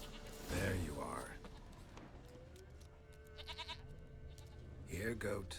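A goat in The Witcher 3 bleats in a few wavering cries, near then again later, interspersed with a voice talking and soft footsteps.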